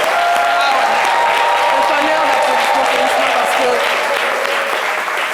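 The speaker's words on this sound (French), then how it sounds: "Et j'aimerais qu'on fasse un tonnerre d'applaudissements pour Isma" A television studio audience applauds loudly at a Mother's Day talk show, giving a dense, sustained burst of clapping that fades slightly toward the end, with voices mixed into the noise.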